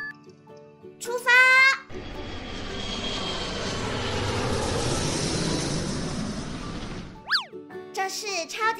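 A toy airplane engine effect from a transforming plane-robot toy plays as a loud, steady roaring whoosh for several seconds, bracketed by short electronic jingles and chimes before and after.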